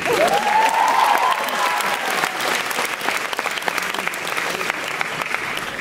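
Audience at a secondary school graduation ceremony breaks into sustained applause, dense clapping from a large crowd that starts loud with a brief cheer or whistle and then stays steady throughout.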